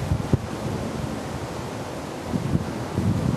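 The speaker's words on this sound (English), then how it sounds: "the wind, as you can probably hear, is really strong" Strong wind roars steadily into the microphone, with heavier gusts buffeting in bursts; no voices.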